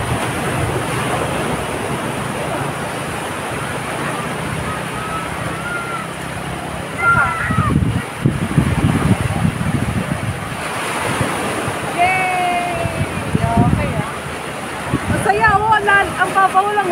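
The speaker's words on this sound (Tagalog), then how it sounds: "Clear na clear yung alon." Sea waves wash steadily onto a shallow beach with clear water, a broad continuous surf roar mixed with wind buffeting the microphone, while people talk and call out in the background.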